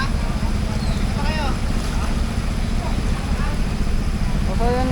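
A boat engine drones steadily and loudly through floodwater from rising rain, a constant low mechanical rumble that never lets up, with a few faint voices talking in the background.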